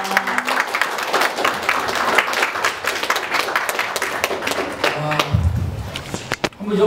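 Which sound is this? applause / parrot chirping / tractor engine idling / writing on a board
applause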